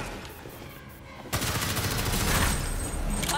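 Bursts of rapid automatic gunfire from the Gotham Knights video game erupt suddenly after a quieter stretch and keep rattling loudly to the end, with a shouted voice briefly over the shooting.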